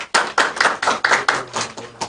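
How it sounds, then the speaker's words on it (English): Audience at a Kenyan health conference on infection prevention and control claps in a quick, loud burst of distinct hand claps, several people striking in an uneven rhythm for about two seconds. "Let's clap for Kisumu."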